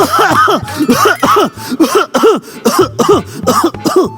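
A person coughs repeatedly, harsh hacking bursts close to the microphone in a steady run, with throat-clearing sounds between.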